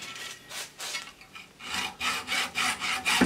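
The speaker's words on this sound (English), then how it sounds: "that last little bit, saw carefully, and it'll come away like that" A hand saw works back and forth through the laminated steel core of a microwave oven transformer in repeated rasping strokes that speed up and grow louder toward the end, close up with no talking.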